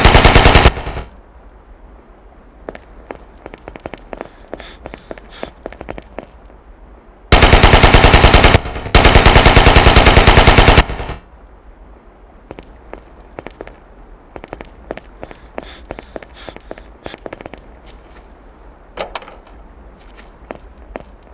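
Machine gun fire on a Fort Bragg training range in a video game, with long loud sustained bursts separated by quieter stretches of scattered shots and clicks.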